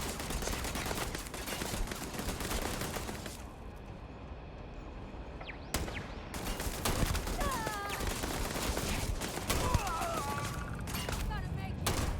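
Gunfire from the video game Starfield, a dense run of shots and bursts over a busy game soundscape with music and effects, loud throughout with a brief lull midway.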